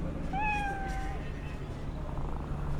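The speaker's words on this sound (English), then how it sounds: "A kitty cat. I love cats." A cat meows in the video game Cyberpunk 2077, one clear drawn-out meow with a couple of shorter calls, close by over steady game ambience and background music.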